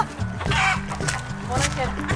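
Hens cluck and squawk in a farmyard with rapid, overlapping calls close by, while people talk alongside them.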